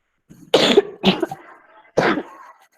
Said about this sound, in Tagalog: Inuubo pa po ako.